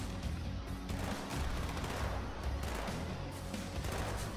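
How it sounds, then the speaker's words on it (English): Dense bursts of gunfire in the Halo 2 video game fill the scene, with rapid overlapping shots and blasts as a loud, unbroken wall of combat noise. "Somebody's shooting something."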